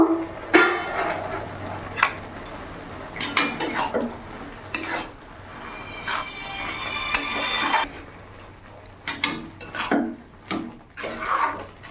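A lid comes off a pot of cabbage curry with metallic clanks and knocks, followed by scraping and stirring against the pan in uneven bursts, close by.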